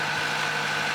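A sailboat's engine drones steadily while motoring at about four knots in windless conditions, a constant, close, even hum with no voices.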